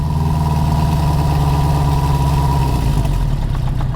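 A 1973 Honda CB350 Four motorcycle engine idles close by with a steady, even four-cylinder burble, loud and unbroken, shifting slightly lower near the end as the idle is turned down.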